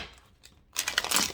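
A deck of tarot cards is shuffled: faint rustling at first, then a louder burst of riffling and crinkling card noise, close to the listener and with no talk over it.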